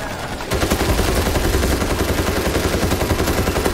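Dense, continuous machine gun fire in the zombie shooter World War Z, kicking in after a brief quiet moment and rattling on loudly and steadily to the end.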